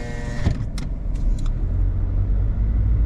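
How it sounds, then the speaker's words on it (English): Road traffic on a hillside street in Macau: a steady low rumble of passing cars with a few brief clicks and rattles near the start, fairly loud and close, with no talk. "now you can see all the traffic"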